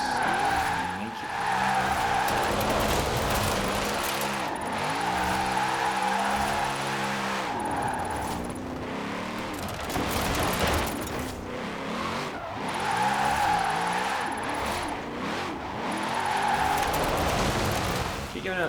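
A car drifts in a video game on Fortune Island: the engine revs and drops again and again while the tires squeal in long, loud, wavering skids, with faint talk at times.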